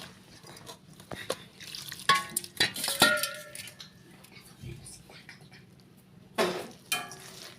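Onion bajji batter with rice flour, ajwain and cumin being mixed by hand in a bowl, giving irregular soft squelches and a few clinks, fairly quiet over low background hum.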